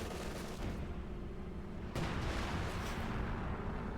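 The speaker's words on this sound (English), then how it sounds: "So many big explosions." Artillery explosions in the Company of Heroes 2 video game form a dense, continuous rumble of booms and blasts. A sharper, louder impact hits midway and the barrage stays heavy afterward.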